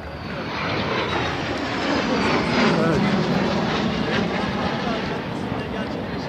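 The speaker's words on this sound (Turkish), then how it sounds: "uçakların gelişini izleyeceğiz" A loud, sustained jet engine roar sweeps overhead as military aircraft fly past during a city liberation celebration in İzmir, swelling in the middle and fading slightly toward the end, with crowd noise underneath.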